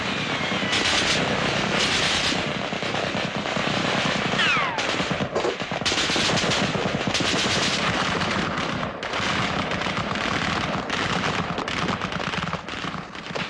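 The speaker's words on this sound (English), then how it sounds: "Of course, they're test firing." Guns test-firing in the dark in a 1962 British black-and-white crime drama, heard as repeated bursts of gunfire mixed with a heavy aircraft-like engine roar, loud and continuous throughout.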